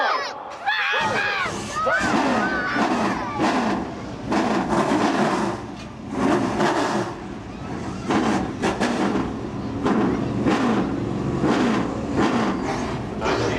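Late model race cars fire up their engines at Seekonk Speedway, a loud roaring chorus of revving V8s rising and swelling together, with a crowd and announcer's voice mixed underneath.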